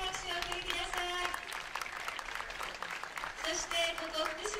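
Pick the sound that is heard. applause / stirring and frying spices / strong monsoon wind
applause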